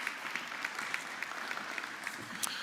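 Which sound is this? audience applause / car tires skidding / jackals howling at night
audience applause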